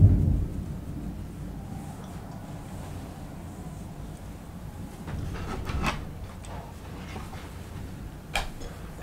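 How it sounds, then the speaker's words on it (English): Low, rumbling thunder rolls beneath a steady wash of rain, with a few sharper crackles near the end. "it's a storm outside right now. Well, not a storm, but it's, like, lightning and raining out right now"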